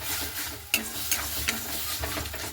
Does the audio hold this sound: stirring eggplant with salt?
yes